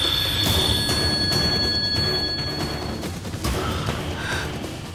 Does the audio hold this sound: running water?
no